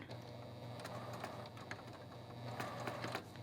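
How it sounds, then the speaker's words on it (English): A domestic sewing machine back stitching at the start of a seam on a pop-up basket, a soft, steady mechanical whir with faint rhythmic needle ticks, quiet and close. "I'm gonna back stitch when I start."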